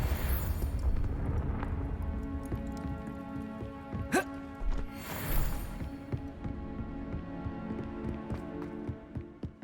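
A Confringo explosive spell in the video game Hogwarts Legacy goes off with a sharp burst, followed by a second blast a moment later, over a layer of game music and ambience.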